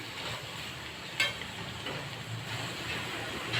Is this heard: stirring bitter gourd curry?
yes